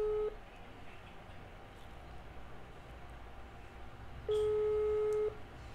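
A WhatsApp call on an Android phone that connects but does not ring gives a short electronic tone, then a second longer steady tone about four seconds later, faint over quiet room hiss.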